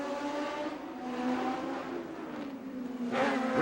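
Formula Atlantic race cars battle on track in 1990, engines droning at high revs from mid distance, then one car screams past close and loud near the end.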